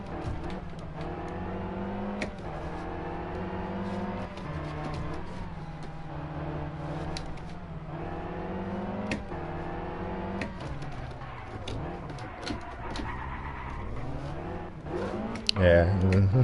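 Rally car engine in the game Sébastien Loeb Rally Evo on a Monte Carlo stage, droning steadily with repeated rising and falling revs throughout, heard under continuous talking.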